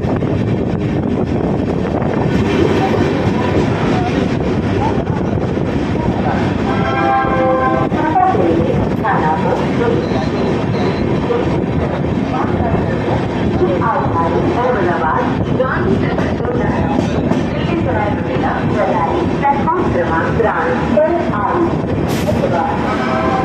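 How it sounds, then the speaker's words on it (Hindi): A Garib Rath Express train rolls into Anand Junction with loud continuous rumbling, rail clatter and wind buffeting, recorded close from on board, with occasional faint voices under the noise. "हमारी ट्रेन आ गई है आनंद।"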